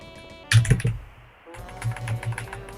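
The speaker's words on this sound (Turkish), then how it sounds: "Bir dakika tamam Z'ye basıyorum." A computer keyboard is struck with a few sharp clicks, then a short burst of quicker key taps, close and clear with no talk.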